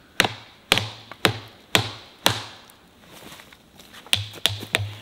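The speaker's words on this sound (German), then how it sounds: "warum klopft man hinten auf eine Klinge drauf?" Sharp taps struck on the back of a lightweight survival knife blade, about ten crisp metallic hits in an irregular rhythm with brief pauses between them, loud and close, with no talking.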